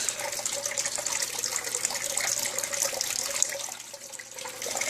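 Water pours steadily for several seconds with a continuous gushing, splashing rush, fairly close and unbroken, with no voices.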